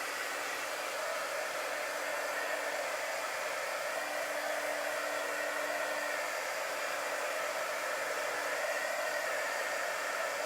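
A hair dryer runs steadily for the whole stretch, drying chalk paste on a repurposed globe, with a constant, loud, even airflow whoosh and no talking.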